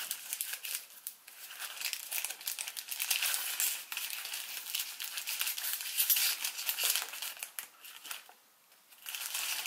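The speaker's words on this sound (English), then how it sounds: "So let's reverse fold these down." Paper crinkles and crackles continuously while being reverse folded into the legs of an origami Ancient Dragon, close and fairly loud, with a brief quieter pause near the end before the rustling resumes.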